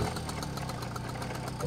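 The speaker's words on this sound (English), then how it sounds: "Start the engine?" A cartoon boat engine idles with a steady low knocking chug, a continuous mechanical rumble throughout the short moment with a faint rise at the end.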